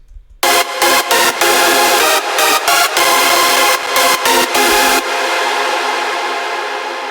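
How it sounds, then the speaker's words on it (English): Stacked supersaw chord layers with reverb, a loud, bright, wide synth wall in a rhythmic chopped pattern of stabs for about five seconds, then a sustained chord that rings out and fades, alone with no talking. "most of it is just supersaw stacked together to create a nice full sound."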